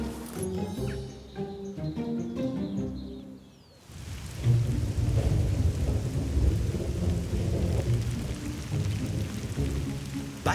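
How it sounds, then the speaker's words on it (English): Steady rain pours down under heavy rumbling thunder at a French chateau, a dense, continuous wash of sound that takes over after a few seconds of music at the start. "Back at Chateau Madame, it's been raining for more than an hour, stopping Steve and the stonemason Didier fr"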